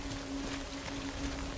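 Steady, quiet hiss of rainfall in Death Stranding, continuous and even throughout, with a faint low hum running underneath.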